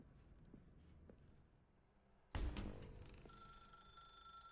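Telephone ringing in The Stanley Parable video game, a sudden loud bright ring that starts midway and sustains with a steady tonal hum after it, following a quieter stretch of faint ambient footsteps.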